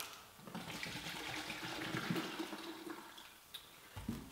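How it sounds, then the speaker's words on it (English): Coconut water from fresh coconuts runs through a filter, a soft continuous gurgling and splashing flow lasting a few seconds, fairly quiet and close, with a small drop at the end. "So I'll start off by filtering the coconut water."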